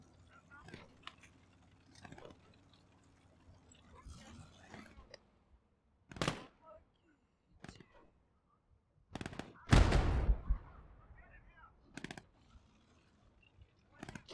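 Gunfire in the WW2 video game Gates of Hell: Ostfront, a few sharp isolated shots and bursts spread out over the clip, one loud close blast standing out, with quieter battle noise and a voice talking in between.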